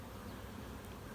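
Robber bees swarm over honey supers during a honey harvest, making a steady, dense buzzing hum that stays even and unbroken throughout, with no voices.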